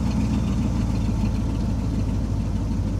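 A car engine idles smoothly and steadily close by, with a continuous low rumble and no change in speed or load.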